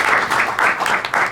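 An audience applauding after a talk about a play on Artaud, a short burst of clapping in uneven surges, fairly close and continuous.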